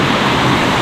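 Kaasipatnam waterfall near the Araku Ghat road pours with a dense, steady rushing roar, close and loud throughout the brief moment.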